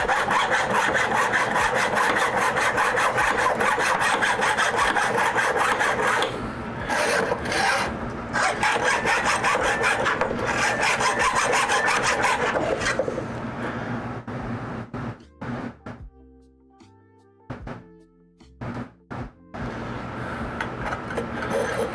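Hand sawing a part for an Ender 3 3D printer: a steady, loud rasping saw stroke rhythm runs for about thirteen seconds, then breaks into shorter, uneven bursts with pauses, close up and without talk.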